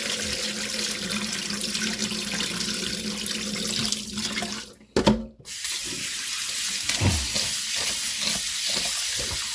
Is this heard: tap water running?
yes